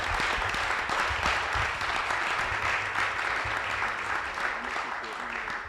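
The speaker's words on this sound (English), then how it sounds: "I certainly want to give our panelists another round of applause for being vulnerable" Applause from the audience at a men's mental health summit panel, a steady dense wash of clapping lasting throughout at an even level, with some voices mixed in underneath.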